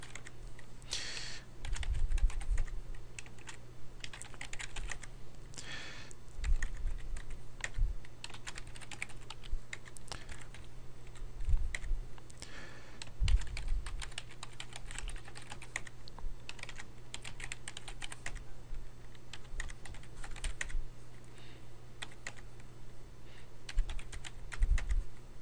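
Steady typing on a computer keyboard while entering data in SPSS 21 statistics software, a continuous run of quick, close key clicks with a faint low hum underneath and no voices.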